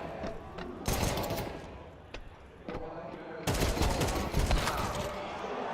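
Bursts of rapid pistol gunfire in a professional Counter-Strike match, with loud volleys of shots near the start and again in the second half, crackling over a steady busy game background.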